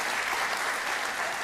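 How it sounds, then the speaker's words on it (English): Steady, dense applause from a studio audience at a televised political debate, filling the whole stretch at even volume with no voices over it. "don't applaud!"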